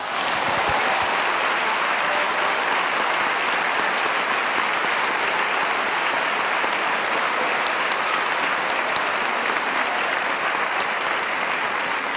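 A church congregation applauds at a pastor's service on marriage, a dense, steady wash of many hands clapping at full loudness for about twelve seconds, filling the room evenly without pause.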